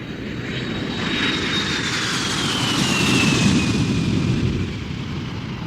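An airplane drones overhead with a steady, loud engine roar that swells toward the middle and eases slightly at the end, alone with no talking.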